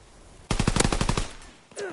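A quick burst of about ten rapid video game gunshots, loud and close in a steady rhythm, followed by a short pause and one more shot.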